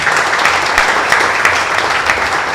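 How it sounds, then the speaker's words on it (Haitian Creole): Audience applause for a beauty, talent and intelligence pageant, dense and continuous clapping from a sizeable crowd at close range, with no talk over it. "demander pour nous applaudir"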